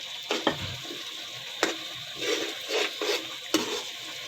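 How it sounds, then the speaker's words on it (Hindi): Semolina is stirred and roasted in hot ghee in a pan for pumpkin halwa. It gives a faint, gentle sizzle under soft scraping strokes, with a few sharp clinks of a spoon against the pan. "ये थोड़ा सा गर्म हो जाता है तो फिर इसमें मैं सूजी डाल के इसको अच्छी तरह भून लूँगी।"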